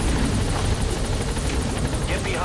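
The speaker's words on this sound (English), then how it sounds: "All right, the chopper's touching down." Rotor chop of a helicopter landing in the video game Metal Gear Solid V: The Phantom Pain, a loud steady whirring thump that fills the whole stretch, with voices faintly under it.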